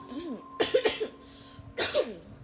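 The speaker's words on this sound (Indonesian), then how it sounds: "batuk" A few harsh coughs in quick succession, then one more after a short pause, close and loud.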